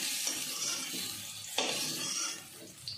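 Potatoes frying in mustard oil with salt and turmeric: a steady soft sizzle with occasional stirring scrapes of a utensil against the pan, fairly quiet and close, without talk.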